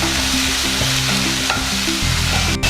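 Sliced onion and green chilli with a pinch of salt sauté in a pan, making a loud, steady sizzle broken by repeated stirring scrapes and clatters, with no talking.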